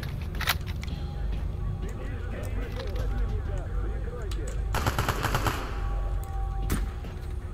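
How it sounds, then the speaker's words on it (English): Bursts of automatic gunfire in the video game Stalker Anomaly, rapid repeated shots in two or three dense volleys over a constant background rumble, loud and close. "Shooting at something, and I don't know what"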